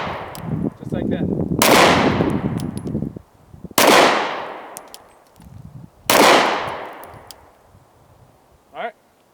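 Three loud handgun shots ring out at a shooting range, each a sharp crack followed by a long fading echo, spaced a couple of seconds apart, with voices talking faintly in between.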